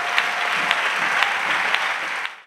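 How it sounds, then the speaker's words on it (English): A church congregation claps steadily for about two seconds, a dense, even wash of hand claps with a few sharper accents before it fades out. "Let's clap for Jesus Christ."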